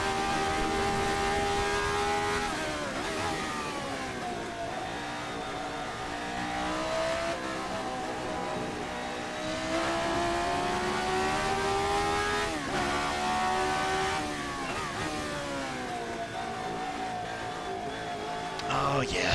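The RSS Formula 79, a ground-effect open-wheel race car in a racing game, revs loud and close, its engine note climbing and dropping repeatedly through gear changes with occasional tire squeal and no talking.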